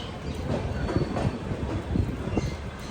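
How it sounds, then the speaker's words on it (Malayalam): Passenger train pulling out of Rajkot, heard from inside a crowded sleeper coach: a steady rumbling roll with soft rhythmic clacks from the wheels, close and continuous, no talk. "രാജ്കോട്ടിൽ നിന്ന് ഇതാ ട്രെയിൻ എടുത്തിരിക്കുകയാണ്."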